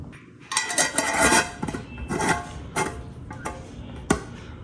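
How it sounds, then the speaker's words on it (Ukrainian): A lid closes on a 4-litre glass jar of fermenting green and red tomatoes in a home kitchen, giving a series of close, sharp clinks and clacks of glass and metal with short pauses between them. "Я просто закриваю кришкою і будемо пробувати на десь приблизно четвертий день."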